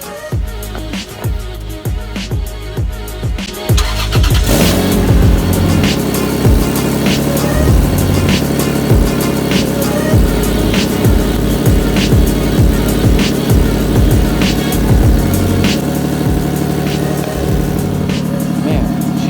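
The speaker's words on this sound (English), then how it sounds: "let's get into this cold start before we leave" Clicks and cranking lead into a car engine cold-starting, then a loud, throaty cheap aftermarket exhaust rumbles steadily at a raised idle, close by.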